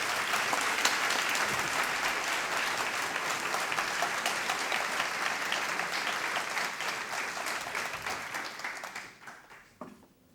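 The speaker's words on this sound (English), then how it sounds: "We give her a round of applause." Warm round of applause from an audience at a school dedication ceremony, steady full clapping that holds for several seconds before gradually thinning and fading out near the end.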